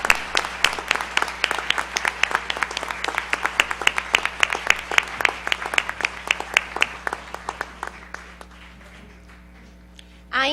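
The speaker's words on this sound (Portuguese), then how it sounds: "queria pedir realmente um aplauso para esse projeto" Audience applause at a formal award ceremony in a legislative hall, handing out the "Justiça para Todos" prize: dense, sustained clapping from a large crowd that thins and fades toward the end.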